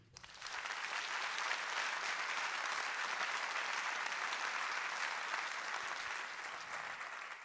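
Theatre audience applauding during a season presentation, a steady, even wash of many hands clapping that swells in quickly and holds at moderate level throughout.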